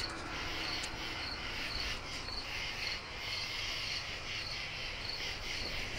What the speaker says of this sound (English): all the crickets and the bugs making their noises and talking to each other.